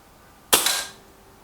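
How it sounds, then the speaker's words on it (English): A single sharp crack from a Reximex Myth or Kral Puncher Maxi air rifle firing a pellet, close and brief with a short decaying tail, then quiet. "Last shot, I think both of these will need a replenishment of pellets after this shot."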